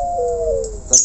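A zebra dove, known locally as perkutut, gives a single close, clear cooing note that slides slightly downward, followed by a short higher chirp at the end.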